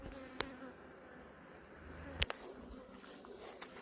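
Honey bees hum steadily around a backyard beehive whose honey supers have just been stacked, a faint continuous buzz with a few louder passes of single bees close by.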